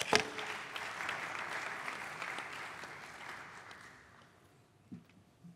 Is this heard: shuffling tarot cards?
no